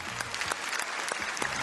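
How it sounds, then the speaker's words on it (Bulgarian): Studio audience applauding on a Bulgarian game show, a dense steady wash of clapping hands sustained evenly throughout the short stretch with no talk over it. "Аплодисменти за следващият опонент."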